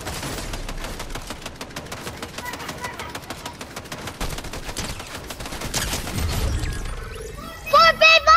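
Rapid gunfire in Fortnite rattles in fast repeated bursts across the whole stretch at moderate loudness, with a brighter burst of effects near the end and a father and kids talking over the shooting.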